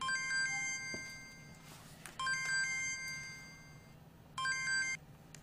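An incoming call rings on a mobile phone in a TV drama scene, a bright electronic melody playing in three short repeated bursts with quiet pauses between.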